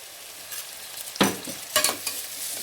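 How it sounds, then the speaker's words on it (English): Ginger garlic paste sizzles in a hot pan as it is sautéed for a South Indian vada curry, with a soft frying hiss broken by a few close bursts of stirring and sputtering. "We will add the ginger garlic paste. I am adding 2 teaspoons of ginger garlic paste."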